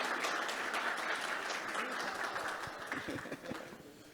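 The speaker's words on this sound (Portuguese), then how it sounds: "Uma salva de palmas para o senador." An audience gives the senator a round of applause, moderate steady clapping that thins out and tails off toward the end, with a few distinct claps standing out.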